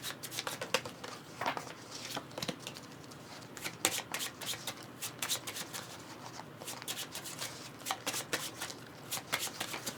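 A deck of cards for the board game Watergate being shuffled by hand at a table, with repeated crisp riffling bursts and soft slides, close and clear with no talking.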